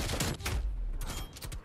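Rapid bursts of gunfire from the high-rate Bullfrog gun in a video game, dense sharp cracks in quick succession, loud and close throughout.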